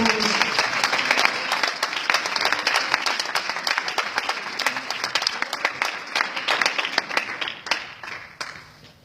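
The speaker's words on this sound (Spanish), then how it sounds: "Aplaudamos el nombre del Señor Jesús." A church congregation claps together in a dense, steady round of applause that stays loud for several seconds before tapering off near the end.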